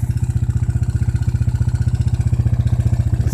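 An ATV engine idles through its muffler, close and steady, with a rapid, even pulsing exhaust thump that holds throughout.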